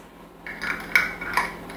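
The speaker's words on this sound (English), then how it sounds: "Now I'm going to pop the lids on this" Metal lids popped onto glass jars of hot homemade sweet chilli sauce in a kitchen, a few sharp clicks and clinks close by, with no talking.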